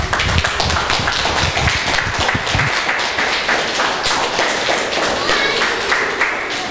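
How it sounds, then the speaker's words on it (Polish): A crowd of children and parents claps loudly and steadily throughout at a Santa Claus visit, where the children have sung and recited. "wielkie brawa!"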